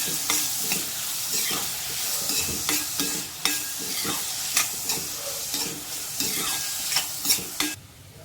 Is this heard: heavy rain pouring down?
no